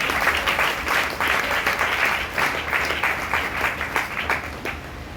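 A church congregation at a Sunday service applauds loudly and continuously, a dense wash of many hands clapping close by for the whole stretch.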